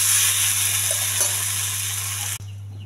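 Pongal being stirred into a sizzling tempering in a pan, a bright steady frying hiss with soft scraping stirs, ending abruptly as the sizzle drops away near the end.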